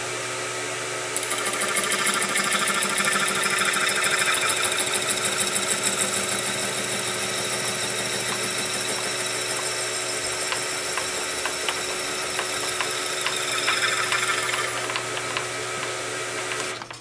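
A machine cuts slots into small Delrin screws, giving a steady mechanical whir and a dense, high ratcheting buzz that runs unbroken for several seconds at moderate loudness, with no talking.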